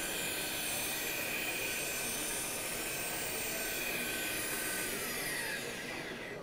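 Polishing machine running steadily while buffing polish onto a boat hull, a loud continuous whirring drone that holds for several seconds before easing off at the end.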